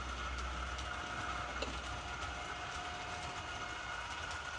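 Faint, steady rumble and rhythmic clicking of a small Roco model train running along a track, with a thin whine throughout.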